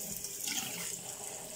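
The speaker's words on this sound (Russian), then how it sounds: "Вот у соседа как льется хорошо." Tap water gushing strongly into a sink in a dormitory, a steady close hissing splash that fills the short moment without pause, with no voices over it.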